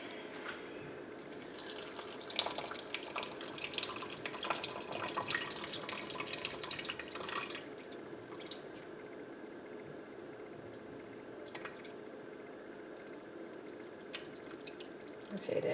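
Juice is poured into a sauce in a splashy trickle that runs for several seconds, then stops, leaving quiet kitchen background with a few small drips.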